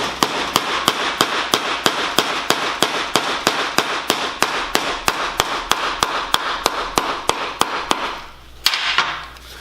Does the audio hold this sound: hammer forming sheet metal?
yes